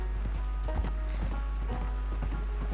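A horse's hooves clip-clop at a steady walking pace in Red Dead Redemption 2, distinct, evenly spaced hoofbeats over a constant low hum of game ambience.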